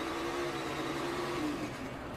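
Tony Stewart's NASCAR stock car engine heard from a bumper-mounted camera, a steady loud mid-pitched drone with a faint whine rising over it, continuous throughout and with no talk.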